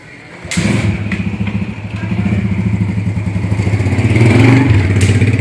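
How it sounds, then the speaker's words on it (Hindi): A motorcycle engine kicks in abruptly and keeps chugging nearby with a throbbing, pulsing idle that grows slightly louder over a few seconds. "बाइक आ रही है आज।"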